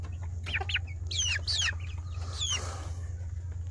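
Six Bangkok-Joper crossbred chickens clucking and chirping in short bursts over a steady low hum, fairly close, with no talking.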